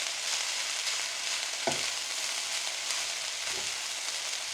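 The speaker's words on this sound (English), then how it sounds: "you want this meat, this pork, to be browning off a little bit" Pork browns in a pan over medium-high heat, giving a steady, fairly soft frying hiss throughout, with a couple of low knocks from stirring.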